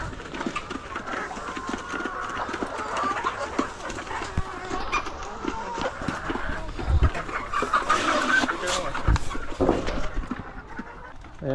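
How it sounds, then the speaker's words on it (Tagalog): Several chickens cluck and squawk around a busy farmyard, with scattered thumps and rustling and faint voices in the background. "dito na tayo sa pagbibilan natin ng manok"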